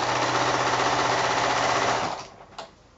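A sewing machine stitches quilt block patches together in one loud, close, continuous run of rapid stitching that stops abruptly near the end, followed by a brief click.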